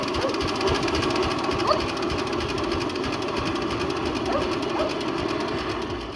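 A Petter semi-diesel engine rated at 12 to 14 horsepower runs steadily, giving a loud, close, continuous rapid knocking chug with an even rhythm throughout and no talk.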